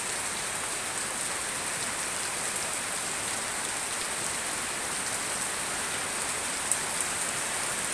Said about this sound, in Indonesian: Memang kali ini hujannya benar-benar deras sekali ya.